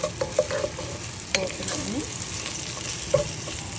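Tempering spices crackle and fry in hot oil with turmeric and salt for a Telugu ponnaganti dal fry, stirred with a few sharp spoon clinks against the pan over a constant close sizzle.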